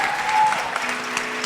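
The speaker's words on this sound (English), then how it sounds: "Let's give her a big round of applause" Audience applause at a Bharatanatyam Arangetram for the dancer, a brief dense wash of clapping with a faint tone running underneath.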